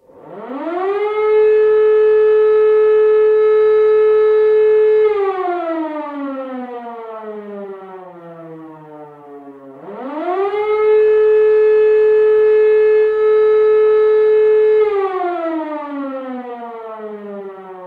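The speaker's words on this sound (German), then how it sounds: "Voralarm, Vollalarm, akute Luftwarnung, so wurde die Bevölkerung durch Sirenen alarmiert" Two long rising-and-falling wails from a WWII German air raid warning siren, loud and alone, each climbing to a steady howl, holding, then sliding down before the second cycle starts.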